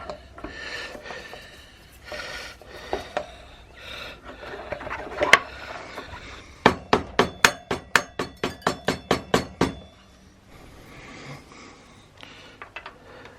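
A spindle is fitted into the front wheel of a BMW R1100GS motorcycle: faint scraping and handling noises, then a close, rhythmic burst of roughly a dozen sharp hammer taps, then quieter fiddling.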